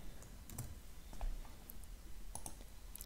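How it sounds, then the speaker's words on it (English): Faint, sparse clicks of a computer keyboard as a hex colour code is typed, a few quick soft keystrokes spread across a quiet room. "you can overwrite this and just type it in here."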